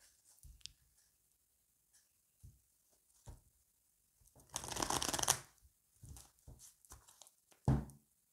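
Oracle cards from the Oracle secret d'émeraude being shuffled by hand, with a few soft taps and slides and then a dense riffling burst before another short flick, close and quiet with no talking.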